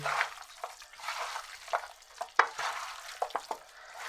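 Chicken tikka marinade with oil and spices gets mixed by hand, giving faint, close, wet squelches and soft taps in an irregular rhythm against a quiet background.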